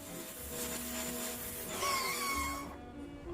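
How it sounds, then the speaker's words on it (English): A pressure washer runs with a droning motor whine that rises and shifts in pitch, fairly loud and continuous, then cuts off near the end. "after turning on the pressure washer and seeing how strong it is"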